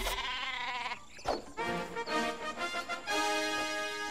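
A cartoonish sheep in the video game Worms Clan Wars bleats in several wavering, drawn-out calls, loud and close, broken by a short thump partway through.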